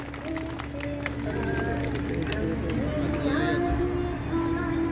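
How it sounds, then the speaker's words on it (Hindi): At a Republic Day school function in Triveniganj, Supaul, an audience applauds to welcome officials. Scattered sharp claps mix with crowd murmur over a sustained tonal drone at a fairly loud, even level. "जोरदार ताली से स्वागत करें सर जी।"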